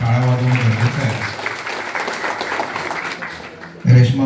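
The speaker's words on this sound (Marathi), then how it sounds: "त्यांच्यासाठी जोरदार आपण टाळ्या वाजवणं गरजेचं आहे" A crowd at a municipal council election rally claps steadily in the middle stretch, with a voice speaking briefly before the applause and again as it fades.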